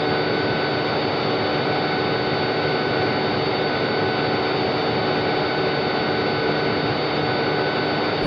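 Boeing 777-300ER jet engines roaring at takeoff power, a loud, steady broadband rumble with a constant high whine that holds unbroken and close throughout.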